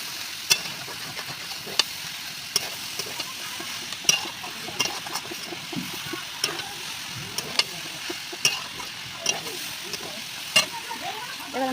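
Shredded cabbage fries in a pan with onion and spices, a continuous sizzle broken by repeated sharp clicks and scrapes of a spatula stirring, close and fairly loud with no voices.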